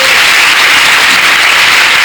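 Congregation clapping during a Malayalam group worship service, a dense, steady wash of many hands filling the whole clip at close range with no voices over it.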